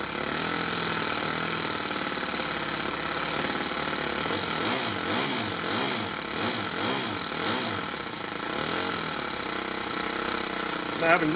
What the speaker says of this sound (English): How sick does that sound?